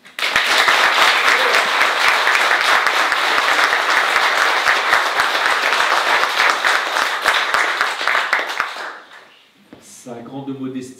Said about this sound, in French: Je vous demande de lui offrir les applaudissements qu'il mérite.